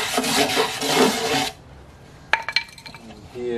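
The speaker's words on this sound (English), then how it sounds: "use a scraper to get some of this." An old birdbath is scraped with a hand scraper, a dense, loud rasping for about a second and a half, then quiet with a few sharp clinks and scrapes near the end.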